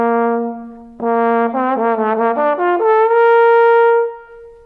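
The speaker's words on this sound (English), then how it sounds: "What makes this instrument really unique is that instead of using valves to change the notes," A trombone plays a slide glissando: a held low note, then a run of quick wavering slides stepping upward, ending on a sustained higher note that fades out, played solo and close with no talking.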